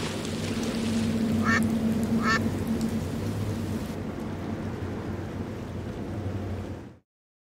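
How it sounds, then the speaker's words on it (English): Ducks in the adventure game Secret Files 2: Puritas Cordis give two short quacking calls early on, over a steady wash of rain-like water ambience that fades out at the end. "This noisemaker seems to appeal to the ducks."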